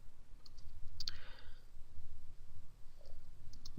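A computer mouse clicking during a website setup: a quick double click near the start, then a few faint, isolated clicks over a low steady hum, with no talk.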